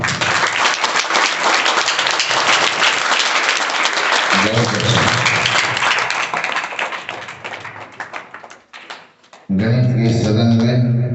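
Loud, dense applause from a hall full of students at a mathematics session keeps going for several seconds, thins out, and then a voice begins speaking over the end.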